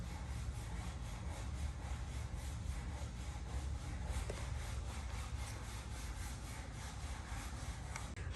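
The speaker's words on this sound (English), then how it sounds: "Optimal sanding." Steady, continuous sanding rasps close by, a dense even scrubbing that holds without a break for several seconds.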